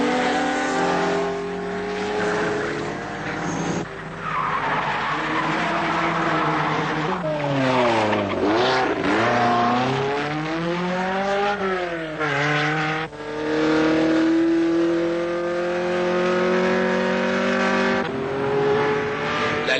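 Porsche Carrera race cars scream around a racing circuit, their engines rising and falling in pitch as they pass close by in succession, with loud, continuous high-revving whine and gear changes throughout.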